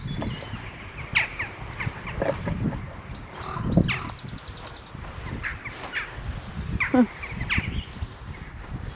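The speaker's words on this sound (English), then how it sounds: "is home to numerous jackdaw, as you'll no doubt hear and see" Jackdaws call outdoors at a former stone quarry with sharp, scattered caws and chacks, some near and some distant, over light wind.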